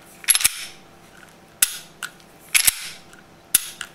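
Dry-fire clicks from a Smith & Wesson M&P Shield 9mm pistol, its trigger striking after cleaning: sharp, close metallic snaps arriving singly and in pairs about every second, with no voices.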